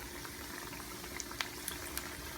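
Salmon croquettes fry in a pan with a faint, steady sizzle, scattered with a few small pops and crackles, heard close and alone.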